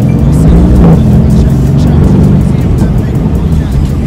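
A 2019 Mercedes-AMG GT's engine rumbles steadily and close by throughout, a loud continuous low drone with a slight rise near the start, while someone talks over it.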